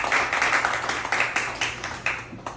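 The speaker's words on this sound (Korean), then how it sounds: "우리 제가 개인적으로 존경하는 효의 으뜸인 김익수 교수님께 큰 박수 한번 더 보내주시면 고맙겠습니다" Audience at a lecture gathering clapping together, a steady, dense patter of hands filling the room for a couple of seconds and tapering slightly at the end.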